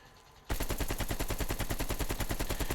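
AK-47 fire in Call of Duty: Black Ops Cold War, a sustained fully automatic burst of rapid, evenly spaced shots, loud and close, starting abruptly after a brief quiet and running to the end with no speech.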